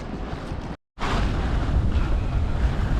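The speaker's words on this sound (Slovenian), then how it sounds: "Danes jadrava proti Grčiji, do nekje sred noči bo takole naj bi bil veter. Jadrav veter, ampak je v redu, ker ni velikih valov." Wind buffets the microphone on a sailboat heading toward Greece from Cyprus, a loud continuous roar with rushing water from the hull and waves, broken by one brief dropout.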